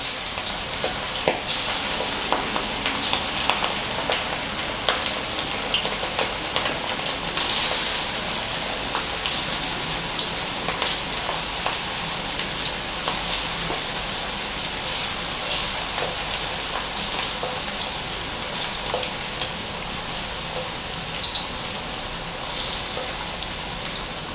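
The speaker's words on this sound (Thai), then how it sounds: "น้ำมันร้อนดีแล้วก็นำเนื้อหมูลงทอดนะครับ เราจะใช้ไฟกลาง ค่อนไปทางอ่อนเนาะ" Pieces of pork belly frying in hot oil over medium-low heat, a steady dense crackling sizzle with scattered sharp pops, close and continuous throughout.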